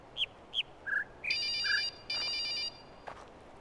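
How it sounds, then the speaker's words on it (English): A phone ringtone sounds during a play session of the puzzle game The Witness: a few short electronic chirps and tones, then two sustained, loud multi-tone rings, clear and close with no talk over them. "Is their phone ringing?"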